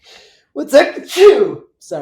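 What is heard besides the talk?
sneeze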